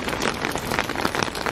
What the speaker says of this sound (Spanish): ha empezado a diluviar, pero vamos, encima fuerte, fuerte